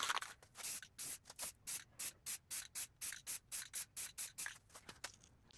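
Light first coat of paint-and-primer spray going onto a mini bike: a steady run of about fifteen short, even spray-can bursts in quick rhythm, close and moderately loud, with no talking.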